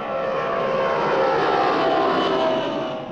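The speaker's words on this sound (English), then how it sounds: "When you fly your kite or model plane, remember you're in charge of a flying machine." A model plane engine drones steadily and loudly as it flies. The tone stays continuous throughout, with no voices over it.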